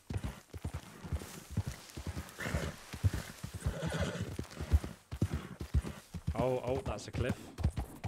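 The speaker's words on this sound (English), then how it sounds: "Calm down, horsey. Don't throw me off." In the video game Red Dead Redemption 2, a horse's hooves clip-clop steadily and it gives a clear whinny. Someone talks over much of it.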